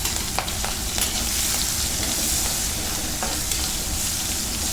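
Finely chopped green chillies frying in a little hot oil after cumin and asafoetida, a dense, steady sizzle close by with a few faint stirring clicks, no voices.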